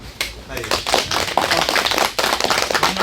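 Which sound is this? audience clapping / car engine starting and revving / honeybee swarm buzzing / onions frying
audience clapping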